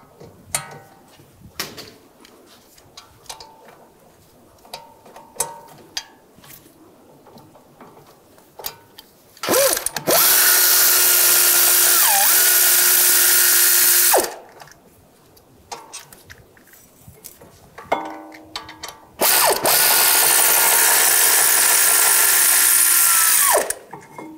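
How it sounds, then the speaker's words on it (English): A power tool with an E20 socket spins out the brake caliper bracket bolts on a 2013-2016 Dodge Dart in two loud, sustained bursts of roughly five seconds each, with quieter clinks and handling noises between them. "Using a E20 socket, I'll take these two caliper bracket bolts off."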